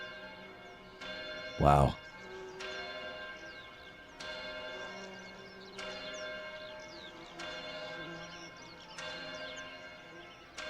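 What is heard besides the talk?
giant bell tolling in a live song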